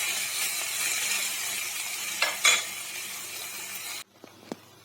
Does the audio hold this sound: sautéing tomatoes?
yes